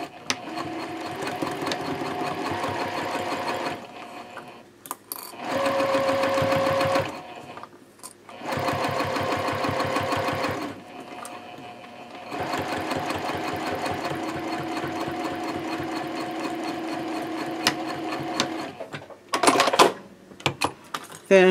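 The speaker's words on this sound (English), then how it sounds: "we're going to sew all the layers together with a 3/8 inch seam" A sewing machine runs in long bursts with short pauses, stitching all the layers of a baby sling together with a 3/8 inch seam allowance and 3.0 stitch length, back-stitching at the ends; the whir is steady and close, with no talk.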